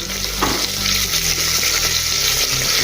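Large sliced onions fry over ginger and garlic in a pan for dal, producing a loud, constant sizzle and crackle with faint stirring throughout.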